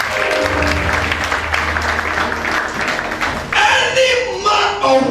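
A church congregation claps during a prophetic worship service, broad sustained applause under a speaking voice, growing louder and more scattered in the final seconds.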